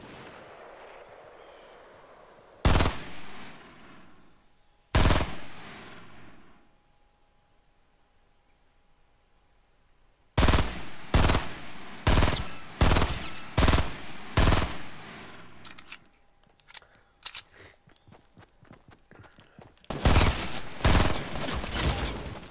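Gunfire in the Fortnite video game: loud bursts of rapid shots come in separate volleys, with long sustained firing clusters in the middle and at the end, and quiet game ambience in the gaps.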